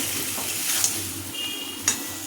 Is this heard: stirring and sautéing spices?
yes